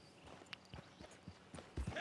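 Hooves of a Black Overo Mustang clip-clop in Red Dead Online, a brief run of soft, uneven steps at close range with no talk over them.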